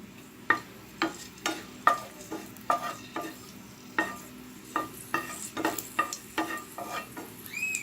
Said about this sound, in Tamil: போட்டு இதை நல்லா நெய்யில் வறுத்து விடணும்